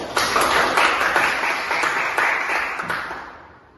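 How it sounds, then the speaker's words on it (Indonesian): A small group in a classroom counseling session claps together in a dense, even burst of applause that holds steady, then trails off and fades out toward the end. "tepuk tangan dulu"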